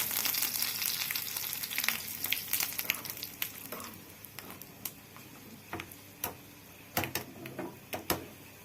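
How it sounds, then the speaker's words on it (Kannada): Mustard seeds and urad dal crackle and sizzle in hot oil as a tempering for roasted green brinjal chutney. A dense frying hiss carries sharp, irregular pops that thin out toward the end, close and alone. "ಒಗ್ಗರಣೆ ಪಾಡ್ದ"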